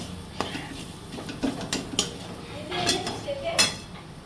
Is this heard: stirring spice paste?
yes